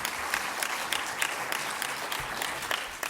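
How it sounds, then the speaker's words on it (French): Audience at a colloquium on ethics and management clapping steadily for a speaker, a dense, even patter of many hands filling the room throughout. "Il faut l'applaudir"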